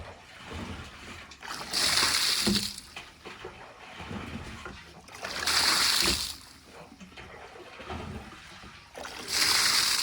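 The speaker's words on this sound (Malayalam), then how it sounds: "അതിനകത്തുള്ള വെള്ളം ആദ്യം ഒക്കെ കളയാൻ ചെയ്യാം" Water from a household tank being cleaned is poured out in three separate splashing bursts, each a few seconds long, with quieter trickling and sloshing between them, fairly close.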